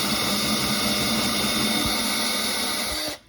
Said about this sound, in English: I'm going to drill down into the middle of that melted plug